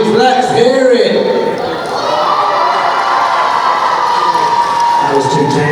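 A large arena crowd at a World Taekwondo Grand Prix in Manchester cheers, whoops and shouts loudly and continuously, with children's high voices prominent and an announcer's voice briefly audible over the din.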